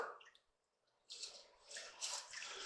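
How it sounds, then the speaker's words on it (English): Flour and chicken broth mixture poured into pot roast drippings in a pot, a soft wet splashing and bubbling pour that swells after a quiet start and continues steadily to the end. "we're going to pour this into our drippings and give this a quick stir"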